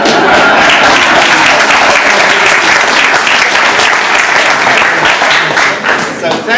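Loud, dense applause from an audience at a Q&A event, continuous clapping with cheering mixed in that holds strong before easing slightly at the end.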